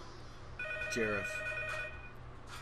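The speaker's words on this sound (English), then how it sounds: "Go to the phone! It's ringing!" Telephone ringing in the horror video game P.T., a steady electronic ring lasting under two seconds, heard over a low background hum with an excited voice briefly speaking at the same time.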